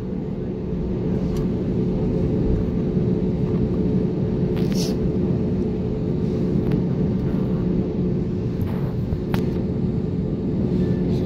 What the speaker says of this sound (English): So now I think the plane should take the turn.